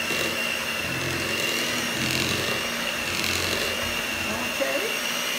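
An electric mixer whirs steadily through cream cheese cake batter, a constant close motor hum with faint shifts in pitch, while someone talks over it.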